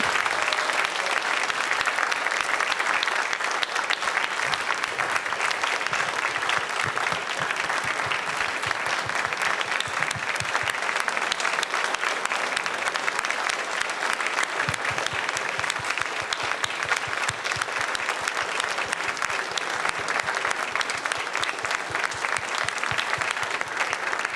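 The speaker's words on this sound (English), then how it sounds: "can we have a round of applause for all of our veterans who shared their stories?" Sustained, dense applause from a crowd at a town veterans ceremony, steady and even throughout for over twenty seconds with no break.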